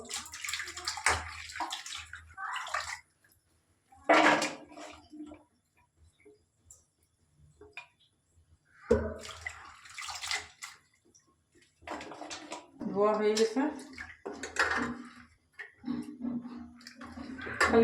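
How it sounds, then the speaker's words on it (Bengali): Running water and scrubbing while washing dishes in a home kitchen, intermittent splashes and clinks of pots and plates in bursts separated by short quiet gaps, close and moderately loud, with no talk. "সন্ধ্যাবেলা বাসন টাসন মাইজে রাখছি ভালো করে ধুতে লাগে"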